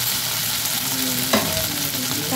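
Eggplant and potato frying in mustard oil in a pan for chorchori, stirred with a spatula: a low steady sizzle broken by one sharp scrape and a few light clinks, close and without voices.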